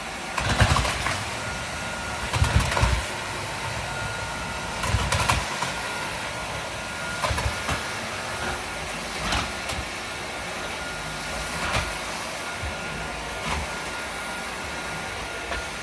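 A UWANT wet dry vacuum cleaner runs in max mode, mopping a floor as it goes, giving a steady close whirring hum with occasional louder bursts of suction and scrubbing.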